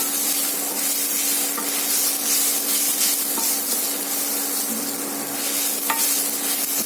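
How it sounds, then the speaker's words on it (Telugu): Cashews and grated coconut fry in ghee for ravva laddu, a close, loud and steady sizzle with continuous scraping from stirring and a few light clicks, with no voices. "ఇప్పుడు నెయ్యి జీడిపప్పు ఆ కొబ్బరి బాగా చక్కగా ఫ్రై చేయండి"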